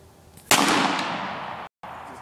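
A rifle fires one loud, sharp shot at a golf ball, with a ringing decay that trails off over about a second.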